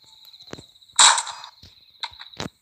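Gunfire in the video game Mad GunZ: several sharp, separate shots cracking at irregular intervals, one louder burst in the middle, over a thin steady electronic tone.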